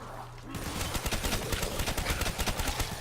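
Rapid gunfire in Call of Duty Zombies, Shi No Numa map, starts after a quiet half second and continues as a dense, steady stream of sharp repeated shots, loud and close, with game sounds underneath.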